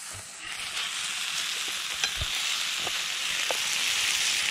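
Bacon frying in a fry pan over a firebox stove kit outdoors in winter, a continuous soft crackling sizzle with scattered small pops, moderately quiet and heard alone without talk.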